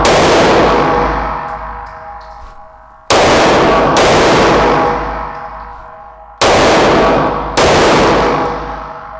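A Staccato CS pistol fires during transition drills, four sharp, loud reports spaced a few seconds apart, each ringing out and decaying before the next shot, with no talking.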